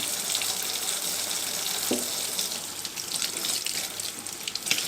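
Water from a tap runs steadily over a degreased steel knife blade, a continuous close hissing splash at even volume with no voices.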